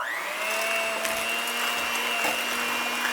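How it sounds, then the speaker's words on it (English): Electric hand mixer whirring steadily as it beats cream cheese with erythritol for a keto cheesecake, a loud continuous high motor whine held close throughout. "you'll give it a mix with your hand mixer"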